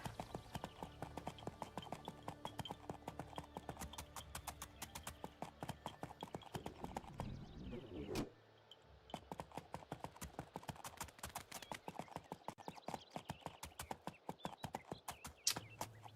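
Horse hooves clip-clop steadily on the ground in a fantasy role-playing video game, a rapid, even rhythm of close, crisp hoofbeats that pauses briefly partway through and then resumes.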